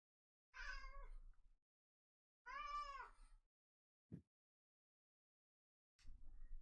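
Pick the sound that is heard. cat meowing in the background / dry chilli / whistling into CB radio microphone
cat meowing in the background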